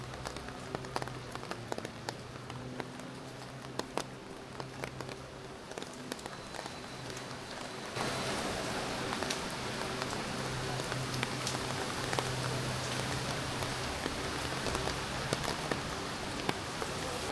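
Steady rain pattering on a city street, a dense hiss of drops that grows louder and heavier partway through, with faint traffic hum underneath.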